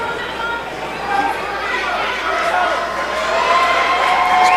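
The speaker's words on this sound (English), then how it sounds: "A great crowd on hand at Buffalo River Works." Crowd noise fills a professional wrestling venue at Buffalo River Works during an ESW Women's Championship match, a steady, loud murmur of chatter and scattered cheers that builds slightly toward the end, with no clear voices standing out.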